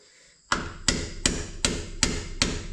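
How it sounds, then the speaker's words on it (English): Six sharp, evenly spaced hammer blows ring out close and loud, each a metallic strike with a short decay, driving out small bolts on the engine of a 1979 Kenworth W900A truck. "Some hammering."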